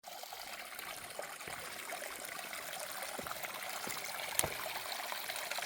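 A mountain water source on the Appalachian Trail trickles and splashes steadily close by, a soft continuous dribble with occasional small drips, no voices.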